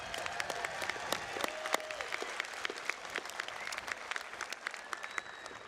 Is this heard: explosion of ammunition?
no